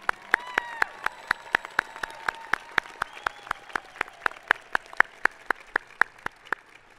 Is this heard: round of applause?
yes